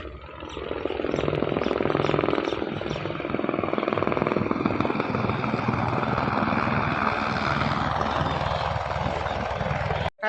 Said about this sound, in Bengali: ওই যে হেলিকপ্টার যাচ্ছে